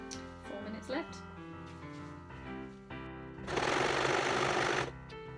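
A sewing machine stitches a hem at close range. Its steady whir comes in short bursts, then runs as one louder continuous stretch, with a person talking over parts of it.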